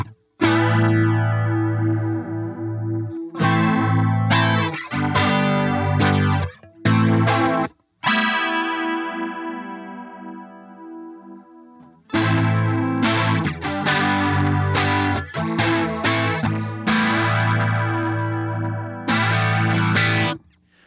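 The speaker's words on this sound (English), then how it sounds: "when I crank the saturate knob, I'm getting some distortion" Electric guitar through a Stylus effects pedal with the saturate knob turned fully up, producing loud distorted, warbling chords and notes played in bursts with short silent gaps, then a long sustained ringing chord before more choppy strumming.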